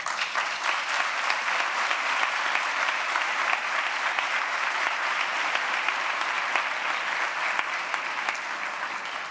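Sustained applause from an audience at a commemorative ceremony marking thirty years since the dissolution of an organization, steady dense clapping throughout with no pauses, fairly loud and even, no voices on top.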